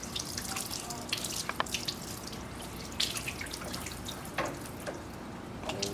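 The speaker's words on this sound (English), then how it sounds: "I'm probably going to give it another quick rinse again just to get some of the chemicals out" Tap water runs into a sink to rinse a fetal pig specimen, giving a continuous soft splashing with scattered drips and small bursts, close and fairly quiet with no talking.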